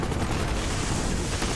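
Dense, continuous gunfire in Call of Duty: Black Ops, a loud unbroken wash of shots and battle noise with no clear gaps between bursts.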